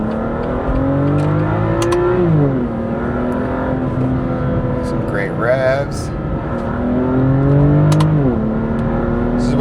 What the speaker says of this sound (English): Some great revs.